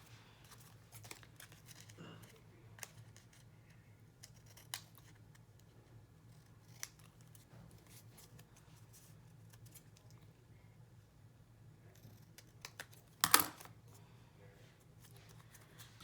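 Scissors trim paper for a handmade journal, with faint, sparse snips and light paper rustles at close range, a louder crisp cut near the end, all quiet with no talking.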